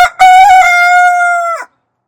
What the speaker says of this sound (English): He's not going to love it, but he's going to crow.